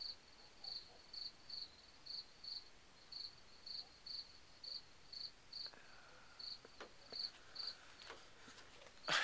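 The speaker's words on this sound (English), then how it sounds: "Can you hear the crickets?" Crickets chirp in a steady, evenly spaced rhythm against a quiet outdoor background, with a few faint clicks and rustles near the end.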